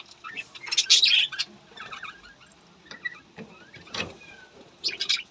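Pet budgerigars chirping at close range in a home aviary with nest pots, in short bursts of sharp high chatter and squawks separated by quieter gaps.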